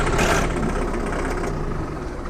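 A John Deere 4520 four-wheel-drive tractor engine running on a farm, a loud, steady close-up diesel rumble for a couple of seconds with a slight swell at the start.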